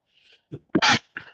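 A single sneeze, preceded by a short sharp inhale and a brief catch, then a loud burst followed by a softer trailing breath, close and alone.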